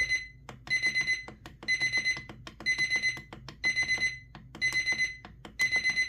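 A Mesqool digital projection alarm clock beeps in rapid repeating bursts of shrill electronic tones, loud and close, with short pauses between groups.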